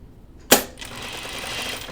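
A sewing machine runs a short burst of stitching through double gauze fabric. It opens with a sharp mechanical clack, followed by a steady, close whirring hum.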